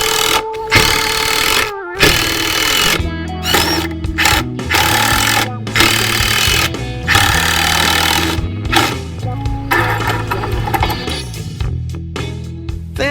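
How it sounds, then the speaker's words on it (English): A power drill boring pilot holes and countersinking into a wooden support for a shelf made from an old CD holder, repeated bursts of whining motor with pitch shifts and brief pauses between runs, loud and close. "I'll drill some pilot holes and countersink them so the screws won't stand out."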